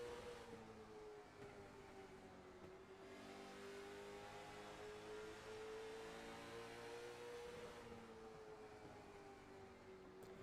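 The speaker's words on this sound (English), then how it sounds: "there you hear that beautiful V8 engine roaring around" Engine of a V8 late model race car circling South Boston speedway in the iRacing game, a steady sustained roar with slowly shifting pitch and no talking.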